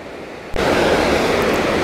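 Tumalo Falls near Bend, Oregon, roars as a loud, continuous broadband rush of falling water that cuts in abruptly after a brief quieter moment, with some wind buffeting on the microphone.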